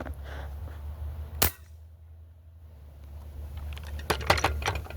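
A Barra 250z air rifle fires once with a sharp, close crack, followed by quiet, then a cluster of small metallic clicks.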